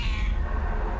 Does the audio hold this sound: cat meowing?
yes